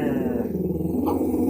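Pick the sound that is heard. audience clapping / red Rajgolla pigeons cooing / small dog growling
small dog growling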